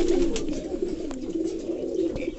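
A king pigeon coos in low, throaty, continuous tones close by, with faint bird sounds and background noise around it.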